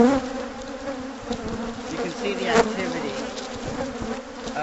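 A dense swarm of honeybees buzzes loudly and continuously during a hive removal from a chimney in San Diego, a steady close drone with no speech.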